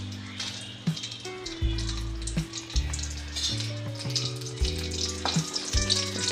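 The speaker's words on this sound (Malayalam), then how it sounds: "വെളിച്ചെണ്ണ ഒന്ന് ചൂടായിട്ട് വരുമ്പോഴത്തേക്ക് നമുക്കതിലേക്ക് വറ്റൽമുളക് ഇട്ട് കൊടുക്കാം" Dried red chillies fry in hot coconut oil, giving a steady close crackle and sizzle with scattered pops over a low background hum.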